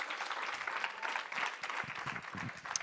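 Audience applause at an evening stand-up comedy show in French as a performer is called to the stage, steady dense clapping filling the whole stretch fairly close, with no talk over it.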